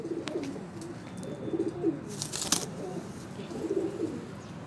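Blue pigeons, two males and a female, coo softly in a repeated low rolling pattern, faint and close with a quiet background.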